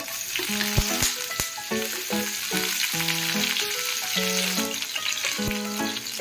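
Green chilies hit a spoonful of hot oil in a pan for egg bhurji, giving a loud, steady crackling sizzle with a few sharp pops. Faint tonal background sound runs underneath.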